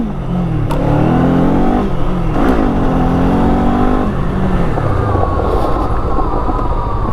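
A Kawasaki Eliminator motorcycle on an afternoon ride in Idaho accelerates hard through the gears, a loud continuous engine roar rising in pitch with brief dips at shifts, heard up close without talking.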